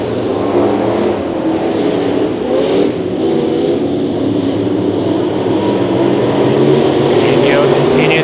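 Sport Mod race cars roar as they accelerate together on a restart at Santa Maria Raceway, a loud, continuous engine drone with an announcer talking over it.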